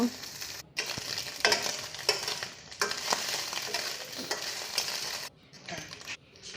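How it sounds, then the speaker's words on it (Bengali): Egg frying in hot oil in a wok gives a steady crackling sizzle close by, broken by stirring scrapes and clinks and a couple of brief pauses. "এখন আমি ডিমটা ভেজে নেব।"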